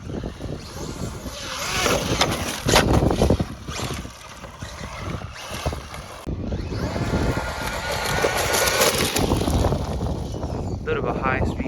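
Traxxas Maxx Slash RC truck tearing by at high speed on full 6S power, a loud, roaring motor and tire rush buffeted by heavy wind, surging in waves over several seconds.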